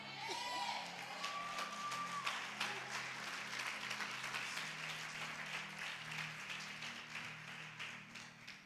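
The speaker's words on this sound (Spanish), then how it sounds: "Dale palmas." A church congregation claps steadily through a Spanish-language service, the dense applause sustained at an even level with crowd noise, while a low organ or keyboard drone and faint vocal tones sit underneath.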